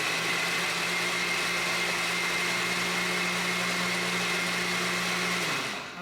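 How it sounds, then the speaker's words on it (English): Pholourie batter being pureed in a blender, a loud continuous motor whine with a steady hum that winds down at the end. "So I am going to keep blending."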